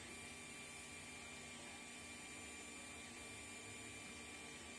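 An Ender 3 Pro 3D printer runs a print at 70 mm/s with 1000 mm/s² acceleration, giving off a faint, even whirring hum of motors and fan that holds steady throughout with no talk.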